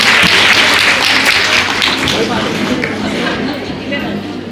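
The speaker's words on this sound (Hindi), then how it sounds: "इनके लिए एक बार जोरदार तालियों से इनका स्वागत करते हैं।" Loud applause from an audience at a women's day event welcoming fire department women, a dense wash of clapping mixed with crowd chatter that slowly eases over a few seconds.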